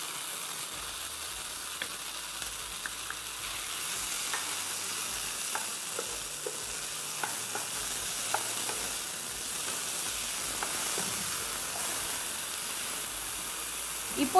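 Green chillies, onion, tomato and mushroom sautéing in a pan, a soft continuous sizzle and hiss with occasional faint stirring clicks, steady and fairly quiet throughout.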